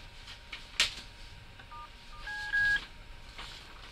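Telephone keypad tones dialing a phone number into an intercom system, a handful of distinct electronic beeps of varying length spaced across the moment, with a sharp click early on and faint background noise.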